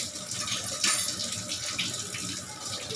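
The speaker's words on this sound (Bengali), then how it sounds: "নিজে নিজেই টুল এনে পা উঁচু করে একা একা মেজে এই যে বাসন ধুচ্ছে।" Dishes being washed by hand under a running tap, steady water flow with a few soft clinks and splashes, fairly close and moderately quiet.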